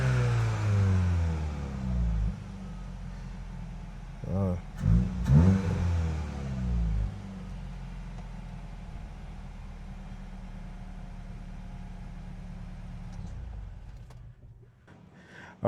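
The engine of a wrecked 2024 VW GTI runs just after a transmission install, with a steady close idle broken by a few sharp revs early on before it settles back to a constant drone.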